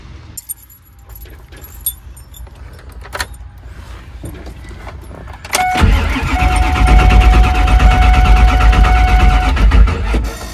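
A 1999 Ford F250 Superduty service truck with the 7.3 diesel starts out quiet, with small clicks and a jangle of keys, then the engine cranks over and catches into a loud, steady diesel rumble that runs to the end.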